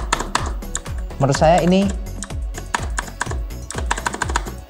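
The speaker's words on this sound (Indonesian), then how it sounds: "Yang paling fatal sih terutama saya dari tombol enternya ini ya." Someone talks while keys clatter on an Armaggeddon mechanical keyboard, including a wobbly, loose Enter key; sharp clicks come in a quick, uneven stream alongside the speech.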